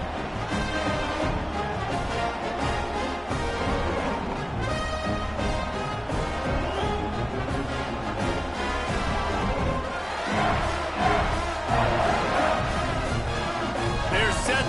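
A football stadium crowd roars in a steady, dense wash of cheering ahead of a kickoff, loud and continuous throughout, with a commentator's voice running over it.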